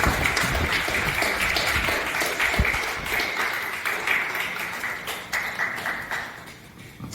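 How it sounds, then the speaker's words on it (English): A large audience applauds at a website launch and satsang gathering, with dense, sustained clapping that stays loud throughout and tapers slightly toward the end. "Let's give a big round of applause."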